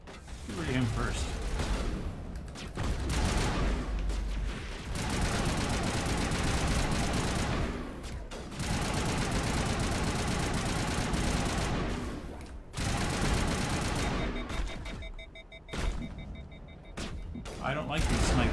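Sniper and automatic gunfire in Mass Effect form a dense, loud, continuous battle roar with sharp cracks and brief lulls, and talk can be heard in the background.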